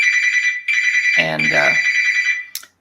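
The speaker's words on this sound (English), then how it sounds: "That's a phone call from a bank." A telephone rings with a steady electronic trill, an incoming call from a bank, sounding continuously and loudly while a voice speaks briefly over the middle of it.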